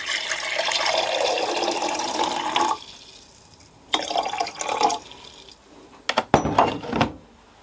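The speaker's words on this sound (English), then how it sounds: "And then some water. This is just cold tap water" Cold tap water pours steadily for a few seconds, stops, then comes in two shorter splashing bursts with brief drips between.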